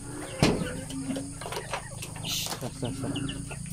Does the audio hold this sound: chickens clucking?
yes